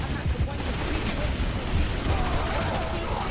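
Rapid automatic carbine fire from a New Conglomerate weapon in Planetside 2, a dense, close rattle of shots sounding continuously with other battle noise layered in.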